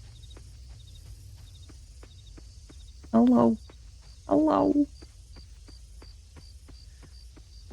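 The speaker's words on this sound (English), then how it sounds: "Got a lot of crickets. Got so many crickets." Crickets chirp at night in the video game Coral Island, a regular ticking pulse that runs steadily in the background while a voice speaks briefly twice.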